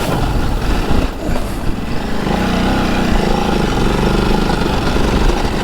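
A Ducati Desert X adventure motorcycle engine pulls steadily up a steep hill in second gear, a loud, continuous rumbling drone close by with a rising, laboring tone and no talking.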